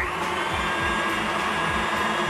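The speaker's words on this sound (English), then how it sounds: "just whisk that through until that's nice and smooth" An electric mixer whisks vanilla and lemon juice into pavlova meringue, a steady, loud motor whir with a bright high-pitched buzz running unbroken and close, no voices over it.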